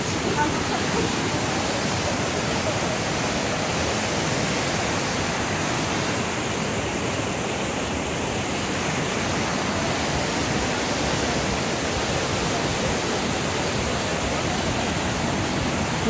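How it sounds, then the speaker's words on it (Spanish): The Cascada de la Burbuja waterfall near Amecameca, Mexico, roars as a steady, loud, broadband rush of falling water that fills the whole stretch without a break. "Llegamos a lo que es la cascada de la burbuja."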